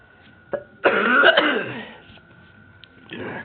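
A single person gives a brief sharp cough, followed by a harsher, longer throat-clearing cough fit, then a fainter rasp at the end, close to the microphone in a quiet room with a faint steady background hum.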